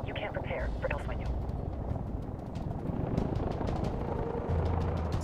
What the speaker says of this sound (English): It's the longest fucking helicopter ride ever.